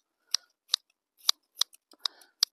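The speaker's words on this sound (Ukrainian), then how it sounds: "Це все я ножицями зріжу." Scissors snip through the tops of rooted cuttings of juniper, thuja or spiraea before planting, giving about seven sharp, crisp cuts in an uneven rhythm, close and fairly loud with no talking.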